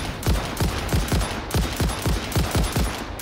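Weapon firing in the video game Satisfactory: a rapid series of about a dozen loud, evenly spaced gunshots, each with a sharp crack and brief boom, sounding in bursts with no speech.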